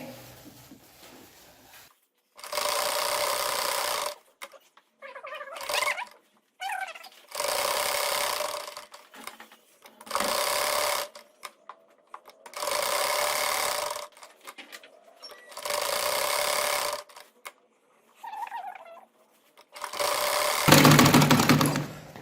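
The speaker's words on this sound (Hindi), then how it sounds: "मैं इस पर मशीन की सिलाई लगाकर इसको पक्का करती हूँ।" Sewing machine stitching fabric along the piping of a boat neckline, in loud runs of a few seconds each separated by pauses, about seven bursts in all, with no voices.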